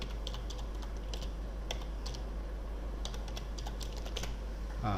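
Keys clatter on a computer keyboard in quick, irregular bursts of close, light clicks over a low steady hum, with no talk.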